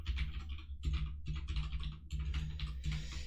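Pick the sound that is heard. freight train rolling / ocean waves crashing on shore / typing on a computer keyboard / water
typing on a computer keyboard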